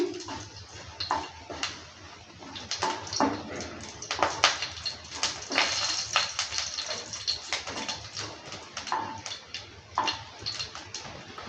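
Two dry red chilies and half a spoon of whole cumin sizzle and crackle in hot mustard oil in a pan, a continuous busy spitting hiss with irregular sharp pops and scraping stirs throughout.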